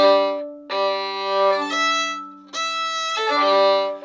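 A violin plays a simple seesaw exercise, the bow pulled back and forth in long, even strokes that alternate between two open-string pitches, clear and close with brief breaks between strokes.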